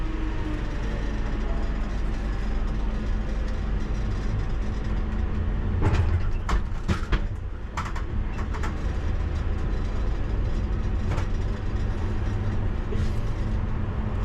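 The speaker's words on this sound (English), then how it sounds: "So I'm on the back of the train at Wood Green. We're going to go into the sidings" A London Underground Piccadilly Line train at Wood Green moves slowly into the sidings, heard from the rear cab as a steady low rumble and motor hum, with a few sharp clicks and clunks around the middle.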